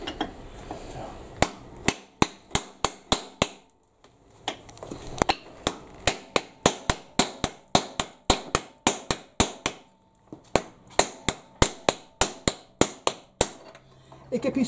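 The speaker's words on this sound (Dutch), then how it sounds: "Gelijk de hamer erbij." Sharp, ringing hammer taps strike the broken engine block of a Gilera GP 800 in quick rhythmic bursts, dozens of blows with short pauses between runs, close and distinct.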